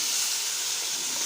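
Green chilli pieces sizzle steadily in a hot pan, a dense continuous hiss close up with no talk over it.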